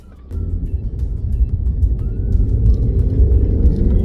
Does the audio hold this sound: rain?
no